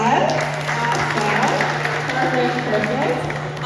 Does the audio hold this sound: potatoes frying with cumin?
no